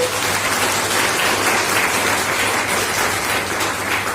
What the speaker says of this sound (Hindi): एक बार मैं चाहूंगा इसके लिए एक बार जोरदार ताली हो